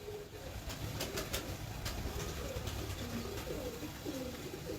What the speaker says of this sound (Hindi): बहुत अलग कबूतर।